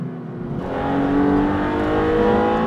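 The Maserati MC20, a mid-engine sports car with a dual-clutch gearbox, revs hard from a short quiet start into a loud, rising engine roar that holds strong, heard from inside with no talk over it.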